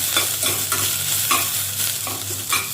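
Tomato rice base sautéing in a pan with a spoon stirring steadily, a continuous close frying sizzle broken by repeated scraping strokes every half second or so, with no talk.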